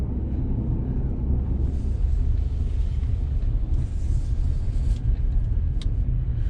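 Rebuilt Audi S6 V8 driving on an icy Arctic road, a steady deep engine and road rumble filling the whole stretch with constant vibration-laden drone and no voices.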